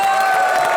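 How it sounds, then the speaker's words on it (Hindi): Studio audience at a Hindi television comedy show breaks into loud, dense applause and cheering with whoops, a continuous roar mixed with a bright sustained musical tone. "सलमान वाई खान के लिए जोरदार तालियां"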